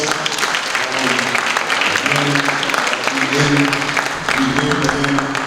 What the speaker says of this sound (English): one more round of applause for yourselves